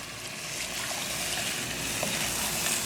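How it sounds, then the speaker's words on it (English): Water poured steadily into a cooking pot of Trinidad curry chicken, a continuous close trickling gush lasting the whole moment with no talk. "now we need to add more water to the pot"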